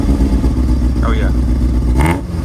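A motorcycle with a new aftermarket Gretty muffler idles loudly with a lumpy rumble, then gives a short sharp rev burst near the end; people talk over the engine.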